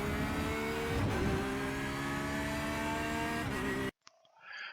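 A Porsche 911 GT3 R in iRacing roars at high revs under sustained acceleration, loud and dense, with a brief dip in pitch near the start before the engine note cuts off abruptly near the end.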